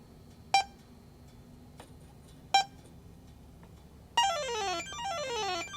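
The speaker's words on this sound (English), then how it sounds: "we've got an audible confirmation with the leak detector" A refrigerant leak detector at a car AC condenser gives two single sharp beeps a couple of seconds apart, then breaks into a rapid, continuous warbling alarm of descending tones, loud and close, with no talk.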